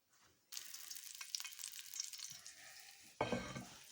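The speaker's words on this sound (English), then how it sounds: "now I'm just gonna sear it for a few minutes" A smoked pork tenderloin is seared in a hot pan with a sharp sizzle that bursts in loudly after a quiet start, crackles steadily, then flares again with a fresh loud hiss near the end; no speech.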